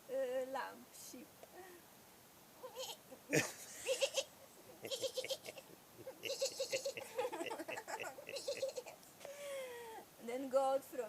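A person's voice imitates a little lamb bleating, giving several quavering, wavering bleats over several seconds, close and clear, with other voices talking around them.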